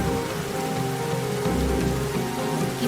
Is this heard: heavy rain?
yes